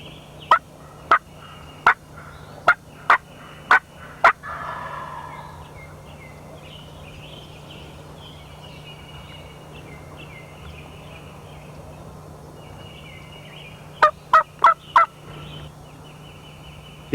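Wild turkey gobblers in spring woods gobble in two loud bursts: a run of six sharp calls, a long quiet stretch with faint background, then four more rapid gobbles near the end.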